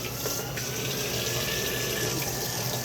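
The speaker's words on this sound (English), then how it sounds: "Fill this pot up because I'm trying to get as much stock as I can get" Tap water runs steadily into a cooking pot in a home kitchen, a continuous close rushing splash that stays even throughout with no talking.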